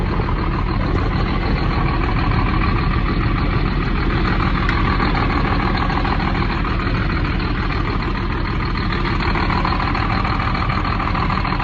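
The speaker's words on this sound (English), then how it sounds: "you can hear the bus running right now, getting louder and louder" A motorhome coach bus engine idles in a steady, loud low rumble, a continuous drone close by with no break throughout.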